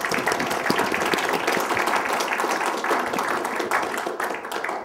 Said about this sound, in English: I think these awesome people all deserve a very strong and hearty round of applause.